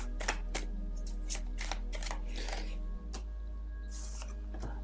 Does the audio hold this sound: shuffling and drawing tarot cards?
yes